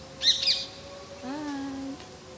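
Small pet birds let out a bright chirp followed by a longer warbling call, close and moderately loud against a low steady hum.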